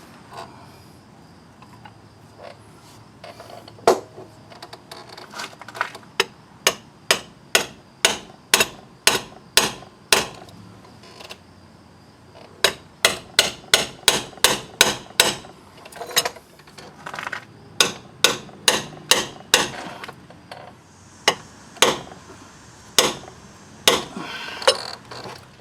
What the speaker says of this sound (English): we're going to set our seal in there, get it started with a hammer, then we're going to set this thing up and drive it all the way in.